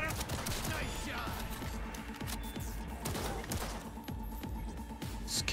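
Rapid, loud gunfire from the video game Cyberpunk 2077, with dense bursts of shots and impacts crackling steadily throughout, close and continuous, over a busy game soundscape.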